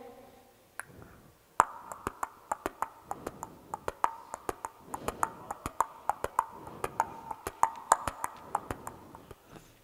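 A performer vocally imitates horse hooves on a road, producing sharp rhythmic mouth clicks in a quick, even clip-clop pattern, close and alone over a quiet background.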